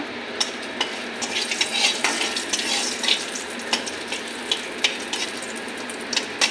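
Dry red chilies and bay leaves frying in hot oil for a vegetable and soybean dish: a steady, bright sizzle punctuated by regular clicks and scrapes of stirring, close up and with no talk.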